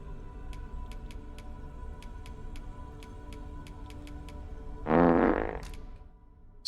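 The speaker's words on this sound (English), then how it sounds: "Thanks for that good fart." A character in the video game Dragon's Dogma 2 lets out a loud, drawn-out fart lasting about a second, over steady game ambience with faint regular ticking.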